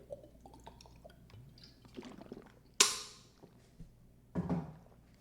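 A little water is poured in a quiet room, with faint drips and liquid sounds followed by two short louder splashy bursts, close to the microphone and without talk.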